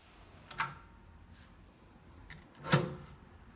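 An Amazon Basics steel security safe is unlocked with a key and its door swung open, giving two sharp metallic clicks a couple of seconds apart over a quiet room, the second louder.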